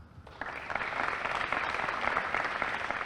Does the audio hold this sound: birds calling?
no